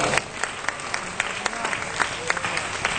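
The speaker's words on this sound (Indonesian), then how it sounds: "Berikan tepuk tangan bagi Tuhan. ตบมือสำหรับพระเจ้าของเรา" A church congregation clapping for God during an evening revival service, a dense run of many hands with sharp individual claps poking through, moderately loud, with faint voices mixed in.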